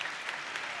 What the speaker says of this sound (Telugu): చప్పట్లు కొట్టి యేసయ్యకు స్తోత్రాలు చెప్తాం